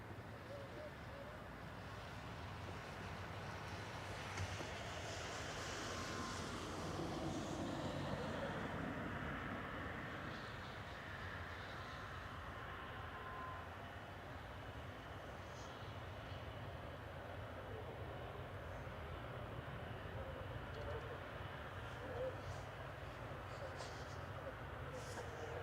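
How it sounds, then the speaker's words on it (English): Virgin Atlantic Airbus A330-300 departing Manchester Airport, a steady broadband engine roar heard from a distance that swells slightly and then holds, with faint talk close by. "A330-300 GV Love departing now over to Atlanta with flight 109 for Virgin Atlantic"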